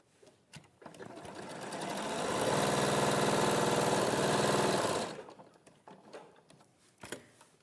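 A sewing machine stitching a 1/8 inch seam: a loud, even mechanical whirr that runs steadily for about four seconds and then stops, with soft handling clicks before and after.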